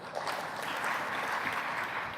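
Lecture audience clapping to vote during a talk on image colorization, a steady dense patter of many hands filling the room for about two seconds at moderate volume.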